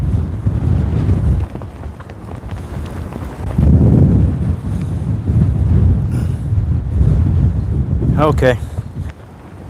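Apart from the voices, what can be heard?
strong wind blowing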